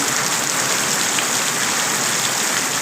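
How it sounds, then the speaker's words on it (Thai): Heavy night rain pours down on a farm garden plot, a dense, constant hiss of drops hitting surfaces, loud and unbroken with no voices. "บรรยากาศยามค่ำคืนฝนตก"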